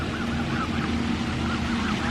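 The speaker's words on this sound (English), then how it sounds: "Do you see that there's ducks beside you?" Ducks or geese call in a short series of honks beside a pond, faint over a steady, loud broadband rush of wind or water.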